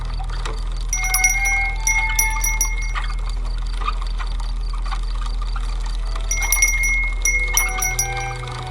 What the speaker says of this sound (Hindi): एक अजीब सी आवाज सुनाई दी, जैसे किसी पुरानी जंग लगी घंटियां बज रही हों।